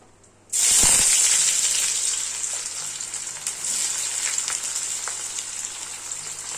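Onions drop into hot oil with whole cumin, bay leaf, dried red chilli and cardamom, bursting into a loud crackling sizzle that settles into a steady, gently fading fry.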